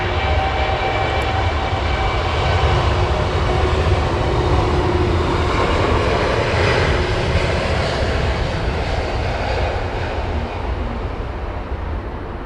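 An airliner taking off at Heathrow Airport, its jet engines a loud, continuous broadband roar that holds steady throughout before easing slightly at the end.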